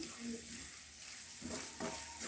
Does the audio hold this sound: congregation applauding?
no